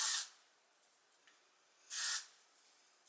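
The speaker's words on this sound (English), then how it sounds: "I do like using this top gloss spray sometimes though." Two short, close bursts of aerosol spray hiss, about two seconds apart, with quiet in between.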